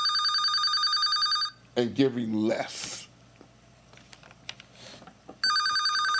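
A loud telephone bell rings in a steady trilling burst, stops while someone talks briefly, then starts ringing again near the end.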